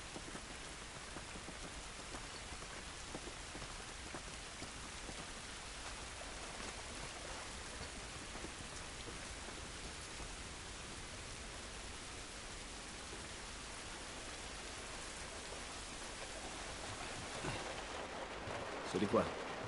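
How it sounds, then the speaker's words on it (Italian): Steady rain pours throughout in the post-apocalyptic game The Last of Us Remastered, a dense continuous hiss with a brief louder splash near the end. "Pioggia non va bene."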